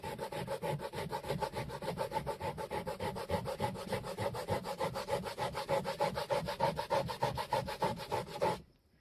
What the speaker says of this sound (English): you take this bar, just like so, and what you do is you rub it on your board, just like that